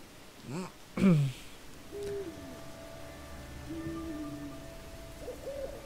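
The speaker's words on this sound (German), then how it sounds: "Hier aufpassen, weil hier ist eine Eule." Owl hooting in the video game Endling, a couple of soft calls and then a stronger hoot over a dim, rumbling ambient bed with faint sustained tones.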